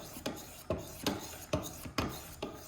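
Knife edge drawn across a 600 grit stone on a Wicked Edge Go sharpener in repeated raspy strokes, about five evenly spaced passes, close and quiet.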